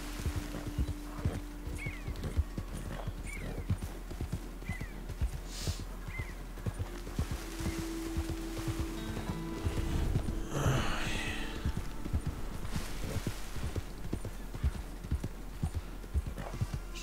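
Horse hooves clip-clop steadily in a Wild West video game, a brisk, even trot with an occasional whinny and snort, fairly quiet and mostly free of talk.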